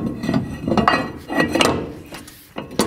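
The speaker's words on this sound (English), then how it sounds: "And put the rotor on." Metal clanks and clinks as a brake rotor is fitted onto the wheel hub of a 2007-2014 GMC Sierra 3500 HD; several sharp knocks and scrapes come close up, with no talking.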